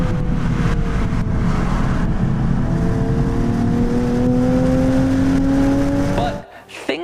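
A Nissan 370Z sports car engine revs up hard under acceleration, its rising tone climbing steadily and loudly for several seconds before cutting off abruptly.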